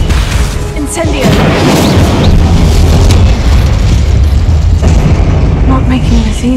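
An Incendio fire spell cast in Hogwarts Legacy, loud booming bursts and crackling fiery blasts layered with combat effects, close and dense across the whole stretch.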